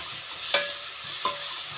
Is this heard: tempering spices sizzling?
yes